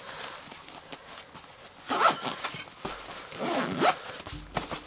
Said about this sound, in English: you just got to make sure that you don't get that zipper, the mesh section stuck in the zipper